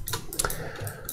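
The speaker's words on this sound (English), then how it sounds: "what you want to do to orbit is hold Control Shift on the keyboard, right click and drag" Computer keyboard keys pressed a few times in quick, irregular succession, soft close clicks while modeling on a computer, no speech.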